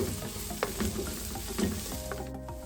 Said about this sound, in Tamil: சேர்த்துட்டு நல்லா எண்ணெயில வதக்கி விடுங்க